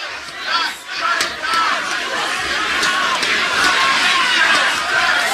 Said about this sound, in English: And everybody's cheering.